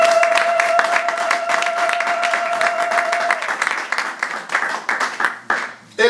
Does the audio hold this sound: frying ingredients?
no